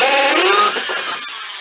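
A power drill bores through a plastic grow bed, giving a loud, close, whining grind that shifts in pitch as the bit works through and then eases off.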